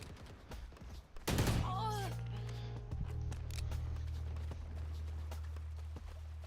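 A short burst of gunfire from the tactical shooter Valorant fires loudly about a second in, then gives way to a steady low in-game hum with faint clicks.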